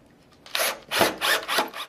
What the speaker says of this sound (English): simply begin by screwing those into place